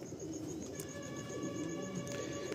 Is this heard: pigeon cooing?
yes